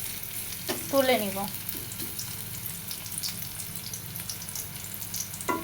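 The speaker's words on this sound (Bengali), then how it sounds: "পেঁয়াজগুলো খুব সুন্দর করে লাল করে ভেজে" Sliced onions deep-frying in oil until browned, a constant dense sizzle with occasional stirring scrapes, close, with a brief spoken phrase near the start.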